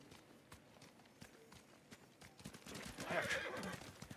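A horse whinnies loudly near the end in the video game Ghost of Tsushima, over a quiet background of soft hoofbeats; faint talk is barely present.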